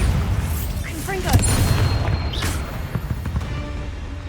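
Spell blasts from Bombarda and Confringo in Hogwarts Legacy, a few booming bursts with whooshing magical sweeps over a busy game soundscape, loud and close.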